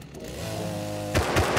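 A chainsaw in the video game Rust revs with a steady buzzing drone, then breaks into choppier, louder bursts near the end.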